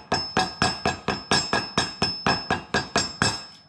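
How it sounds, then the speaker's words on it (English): A rubber mallet taps a wheel bearing seal into a hub during a brake kit install on a LUV build, striking about a dozen evenly spaced, sharp knocks in a steady rhythm, close and fairly loud with no voice over it. "Just use a rubber mallet, lightly tap all the way around until it hits its stop,"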